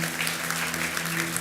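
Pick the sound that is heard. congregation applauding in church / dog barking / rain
congregation applauding in church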